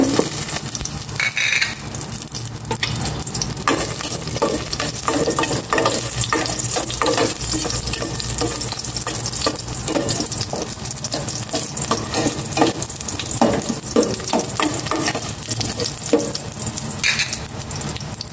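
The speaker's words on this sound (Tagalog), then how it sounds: "Gisa ko na itong bawang." Garlic sautéing in a pan while being stirred, a steady close sizzle with frequent scraping strokes of the spatula throughout, loud and continuous with no talk.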